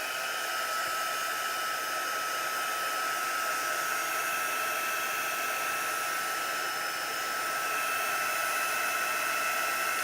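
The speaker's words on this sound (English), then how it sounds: "it's just a heat gun, dry it real quick" A heat gun blowing steadily to dry chalk paste, a constant close, loud whooshing hiss that barely changes for ten seconds, with no voices.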